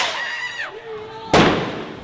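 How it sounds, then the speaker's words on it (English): A firework thrown at a street protest whistles with a falling tone, then bursts with a sharp, loud bang and a brief crackling decay, up close. "This is a firework."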